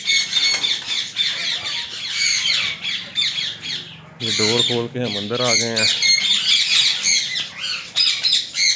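Parrots in an aviary squawk and chirp in dense, shrill, overlapping bursts close by, with one brief louder squawk run partway through, while someone talks over the birds.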